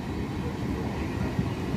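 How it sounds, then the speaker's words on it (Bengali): A down Bandel–Naihati local train entering Hooghly Ghat railway station, a continuous low rumble of rolling wheels and carriages, close and steady, with no talk over it. "down Bandel Naihati local Hooghly Ghat railway স্টেশনে প্রবেশ করছে"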